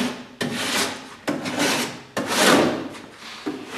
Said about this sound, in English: now we're ready to hit it with the sand